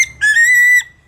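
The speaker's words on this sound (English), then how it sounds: "He'll do the charge whistle." A blue and gold macaw gives a loud, close, single sustained whistle that rises slightly in pitch and lasts just over half a second before stopping abruptly.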